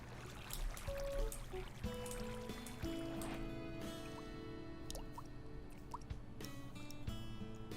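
Water drips steadily in a Minecraft dripstone cave, with scattered plinks of varying pitch over a faint watery ambience, soft and spacious with no voices.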